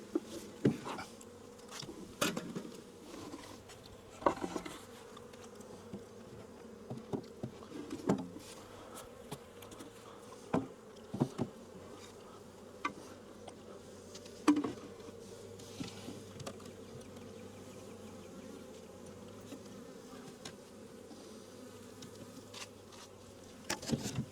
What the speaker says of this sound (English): I'm gonna get these bees off of here because they're gonna be trapped in here.